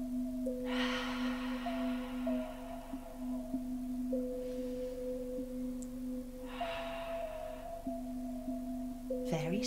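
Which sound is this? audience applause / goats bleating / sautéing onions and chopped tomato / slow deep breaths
slow deep breaths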